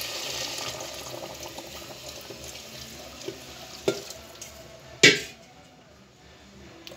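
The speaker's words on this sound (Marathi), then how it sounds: "तर याच्यामध्येच आपण आता आपल्याला पाहिजे तेवढ्या ग्रेव्हीच्या किंवा आमटीच्या प्रमाणात पाणी घालायचं।" Hot water poured into a cooking pot of goat head and trotters curry, a steady close splash and gurgle that fades out, broken by a couple of sharp metallic knocks of pot or utensil.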